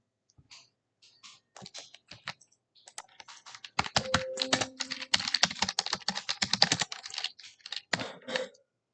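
Typing on a computer keyboard, scattered close key taps at first that build into a fast, dense run of clicking keystrokes before stopping.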